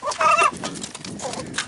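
Chickens cluck in short bursts on a permaculture ranch farm while feeding on melon and pig food, nearby and moderately loud with no talking.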